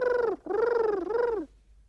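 A bird call given in two drawn-out, rising-and-falling phrases, clear and fairly loud, followed by quiet. The tone is harmonic and somewhat turkey-like rather than soft cooing.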